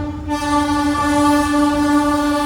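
A Vande Bharat train horn blares loudly and steadily near the listener as it departs, a sustained multi-tone blast over the rumble of rolling railcars, with no voices.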